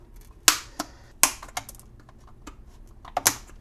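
A plastic plant pot holding a root-bound Monstera Burle Marx Flame has its bottom cut open, heard as a few sharp, close snips and cracks spaced irregularly over a quiet background.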